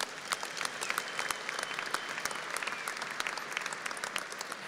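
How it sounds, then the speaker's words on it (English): A crowd at a university commencement claps steadily, a dense patter of hands at moderate distance, sustained and fairly quiet throughout. "Let's give these graduates a round of applause"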